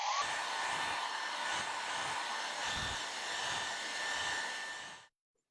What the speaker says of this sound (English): So I'm going to use a hairdryer now and just get this to dry much quicker